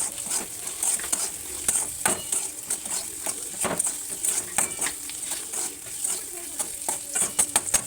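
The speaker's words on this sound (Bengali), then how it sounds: "আমি পেঁয়াজটা ভেজে নিই এখন।" Onions frying in a pan make a soft sizzle under frequent scraping and clinking from a stirring utensil, uneven knocks spread through the whole stretch, with only faint traces of voice.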